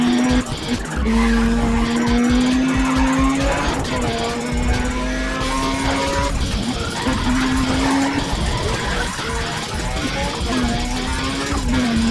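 A racing car engine revs hard and steadily while tires squeal in repeated bursts in the video game Need for Speed ProStreet, loud and close, with a voice talking over it.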